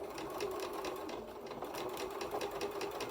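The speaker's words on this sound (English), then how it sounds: "I just let the machine sew" A sewing machine with a quarter-inch presser foot stitches quilting fabric along a curve, a steady, fast, continuous mechanical whir with rapid needle ticking, close and alone throughout.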